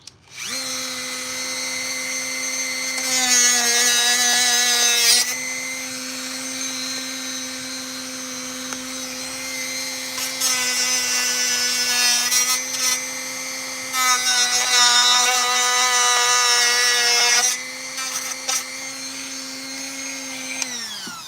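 A high-pitched rotary power tool whines steadily while cutting small knobs off a plastic toy figure, its pitch dipping and the grinding growing louder in several bursts as it bites into the material, with no talk.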